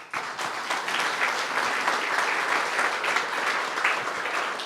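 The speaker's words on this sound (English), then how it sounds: "Thank you for that warm round of applause." Steady applause from a crowd at a ribbon cutting for the historic Black Building in downtown Fargo, continuous and even with no talk over it.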